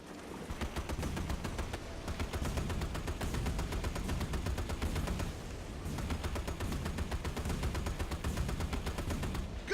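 Shipboard weapon fire in Battlestations: Midway, a steady rapid stream of machine-gun shots hammering on for nearly ten seconds with only a brief pause, loud and even.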